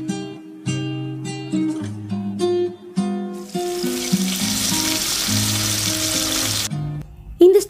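Tomatoes and curry leaves sautéing in hot oil for a dried fish curry, with a steady close sizzle under a layer of tonal melodic music that runs through most of the stretch.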